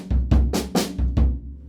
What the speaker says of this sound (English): The next one's going to be 1 on the hands, 2 on the bass drum, and then 2 on the hands again.